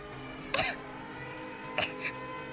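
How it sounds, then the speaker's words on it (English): Two short, harsh coughs from a character in the video game Root Double: Before Crime * After Days sound a second apart over a quiet, steady background hum, followed by a faint third catch. "Eventually, Yuri's coughing started to grow weak"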